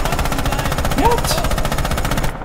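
Rapid automatic gunfire in Red Orchestra 2, a continuous rattling stream of closely spaced shots, loud and near, with a brief whistling sound partway through.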